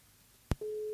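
A telephone call connecting, with a short click and then a steady single-pitch tone starting partway through and holding to the end, fairly loud and alone.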